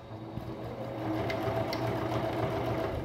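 Sewing machine slowly stitching pieces of denim from old jeans into a crazy-patchwork rug, a steady close motor hum with a faint rhythmic whir running evenly throughout and no talking.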